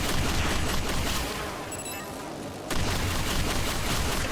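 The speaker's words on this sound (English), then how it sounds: "That other attacks with explosions." Explosions from enemy attacks in the Scarlet Nexus video game make dense, continuous booming blasts that fill the clip, ease off briefly in the middle, then return at full loudness.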